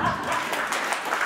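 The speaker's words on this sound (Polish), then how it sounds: "Wielkie brawa dla pani Renaty" A crowd at a village Women's Day celebration in Drelów applauds with dense, steady clapping for a little over a second, with faint voices mixed in.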